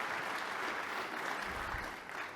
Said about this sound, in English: Round of applause for Rocket and Rocket Mortgage Classic